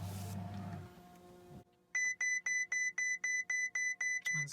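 A Ferrari 488 Pista gives a steady series of about ten evenly spaced electronic warning beeps as it boots up, clear and close in a quiet cabin after a brief low rumble.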